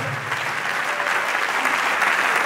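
A congregation at a deliverance and healing prayer service applauds the Lord, with dense, sustained clapping from a large crowd throughout.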